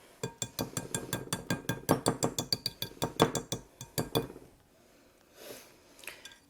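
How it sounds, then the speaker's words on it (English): A spatula works through thick brownie batter in a bowl, giving a quick run of about a dozen rhythmic scraping clinks close by. The strokes stop, followed by a couple of soft, faint knocks. "A spatula."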